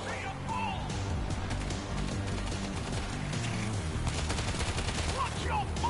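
Heavy gunfire in the zombie shooter World War Z, in a Jerusalem tunnel under swarm attack: dense, continuous automatic bursts overlapping loudly with music and effects, voices calling out in between.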